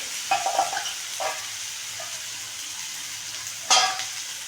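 A spoon stirs onion, tomato, garlic and chili frying in a pan with added turmeric, giving a steady close sizzle broken by a few scraping strokes, with a louder stir near the end.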